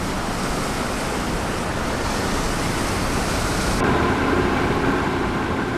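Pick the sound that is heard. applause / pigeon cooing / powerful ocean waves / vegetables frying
powerful ocean waves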